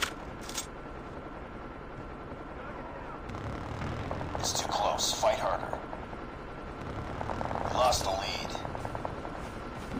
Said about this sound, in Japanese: あのヘリって仲間のヘリか。